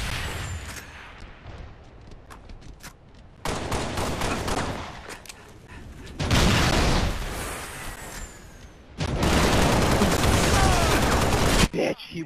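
Halo Reach gunfire in bursts of rapid shots, loud and dense, with sections of heavier sustained fire and explosive booms, mixed with player voices talking over the action.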